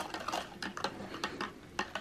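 A U.S. MRE spoon stirs a Ukrainian 24-hour ration side dish mixed with hot water, giving a series of close, irregular scraping clicks and taps against the ration pouch or container, with no talking.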